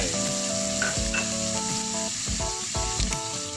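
Stewed beef stir-fried with oyster sauce and seasonings sizzles steadily in a hot pan, with several scraping stirs of the spatula and a faint tonal hum beneath, and no voices.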